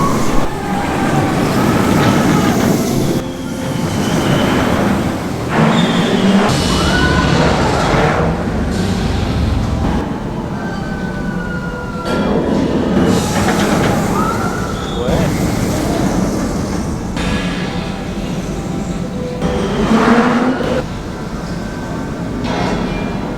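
Taron launched roller coaster at Phantasialand, a winter-season ride: continuous loud rushing rumble of train wheels on track with surges and sweeping whooshes, riders' voices mixed in throughout.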